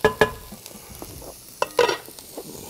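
Onions and chili are stirred and sizzle in a pot while chicken chili is cooked, with a few sharp scraping stirs and soft frying hiss in short bursts, close and moderately loud, with no talking.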